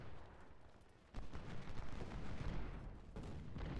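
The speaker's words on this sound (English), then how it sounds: "And another volley into Warren for some good measure" Continuous rumbling rifle volleys and battle din from an Ultimate General: Civil War engagement, a dense roar of massed musket fire that swells louder after the first second and stays heavy throughout.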